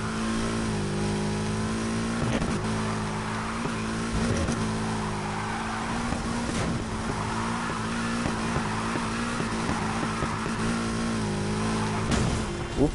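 A video game car drifts and revs continuously, its engine droning steadily with rising and falling pitch and occasional tire squeal, loud and close throughout.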